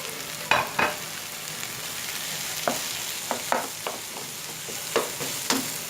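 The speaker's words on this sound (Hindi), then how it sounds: "ये देख सकते हैं प्याज मेरी फ्राई हो गई। अब मैं इसके अंदर ये आलू का भुर्ता ऐड कर दूंगी।" Mashed potato being stirred into fried onions in a pan for Punjabi aloo paratha, with soft sizzling underneath and irregular scraping, clinking spoon strokes repeating close by.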